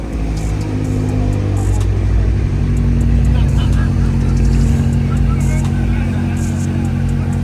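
A group of BMW M cars pulls away at a Sunday car meet, with a steady, loud engine drone and rumble running throughout alongside people talking nearby.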